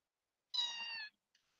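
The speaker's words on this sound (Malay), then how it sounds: "Ayah dah ada kucing." A cat gives a single clear, drawn-out meow of about half a second, close and alone in silence, followed by a faint brief trailing sound.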